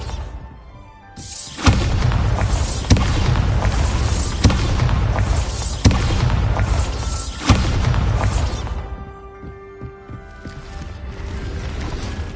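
The Bombarda spell in Hogwarts Legacy goes off as a series of heavy booming blasts with rumbling, crumbling debris, loud and close and repeating every second or so before fading to a quieter tail.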